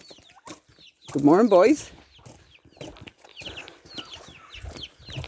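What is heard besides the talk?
chickens clucking on a farm in the morning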